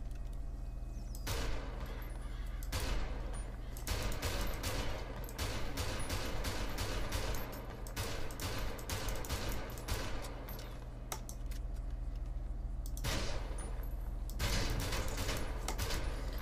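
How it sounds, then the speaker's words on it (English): Combat pistol gunshots from the game FiveM with a realistic sound pack, a series of sharp single reports fired at irregular intervals, loud and close, each with a short echoing tail. "That's the combat pistol."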